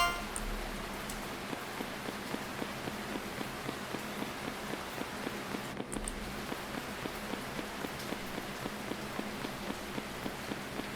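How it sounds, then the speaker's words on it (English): Rain falls continuously onto an umbrella while someone walks, a dense patter with regular soft footstep thumps in a steady rhythm underneath throughout. "I like to walk in the rain."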